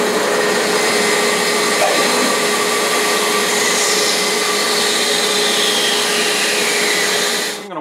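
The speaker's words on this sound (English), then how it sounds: "then we'll go over to the bandsaw and" A bandsaw runs with a steady loud whine while cutting circles of material marked out for a roll-up green screen, continuous for nearly the whole stretch before cutting off abruptly at the end.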